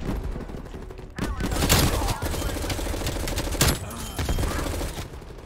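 A FARA 83 rifle fires in Call of Duty Cold War, bursts of rapid, close gunfire cracking in quick strings, with louder single reports partway through and game effects behind them.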